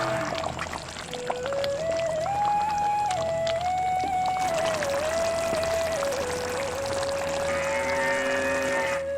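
Beaten eggs are poured into a simmering masala, making a soft, steady pouring and bubbling hiss under a clear melodic tone that holds through most of the stretch.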